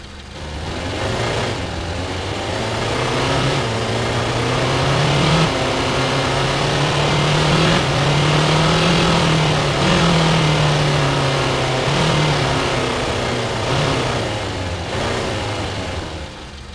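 Synthesized car engine from a granular engine preset with manual gears, revving in continuous rises and falls of RPM and load, a loud steady drone with gear-like shifts throughout.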